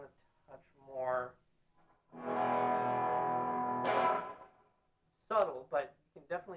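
A guitar played through an effects pedal in sub mode, giving one sustained, processed note of about two seconds. A speaker talks before and after it.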